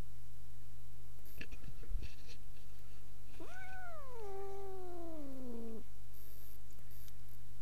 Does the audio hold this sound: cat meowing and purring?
yes